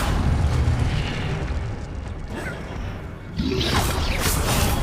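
A fire spell blast in the Hogwarts Legacy video game during a wizard duel: a dense, loud booming burst with a rushing whoosh, easing off briefly before a second bright crackling surge.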